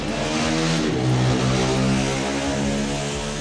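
A continuous mechanical whir from the motors of an L08 gimbal stabilizer, with shifting pitches and a constant noisy hum, loud and close, running steadily throughout without speech.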